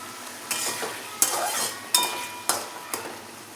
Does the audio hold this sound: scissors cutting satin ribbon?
no